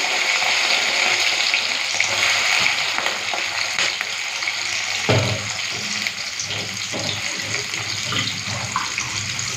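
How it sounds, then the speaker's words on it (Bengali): Prawns dropped into hot oil in an iron wok set off a loud, continuous sizzle and crackle, with a sharp burst near the middle as they hit the oil, followed by steady frying and some stirring scrapes. "তেল গরম হয়ে গেছে এখন চিংড়ি মাছটা দিয়ে দিচ্ছি তেলের মধ্যে"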